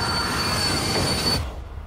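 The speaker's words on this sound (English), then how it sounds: "Next, the train halts to the stop with a shriek." A train in the Murder on the Orient Express film trailer grinds to a halt, wheels squealing in a loud, sustained metallic shriek with a high whine over heavy rumble that cuts off abruptly near the end.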